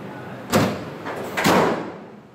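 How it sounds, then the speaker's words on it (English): Bonnet of a 1990 Toyota Crown Royal Saloon 3.0 slamming shut, heard as a loud close thud followed by a second heavy impact about a second later, with no talk over it. "Oh, the bonnet just slammed."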